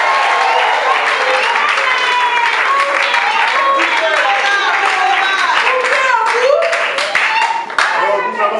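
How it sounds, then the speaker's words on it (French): Wedding guests at a French civil ceremony applaud the newly declared couple. Steady clapping runs throughout under a mix of voices and cheerful chatter from the crowd. "Alors, applaudissez."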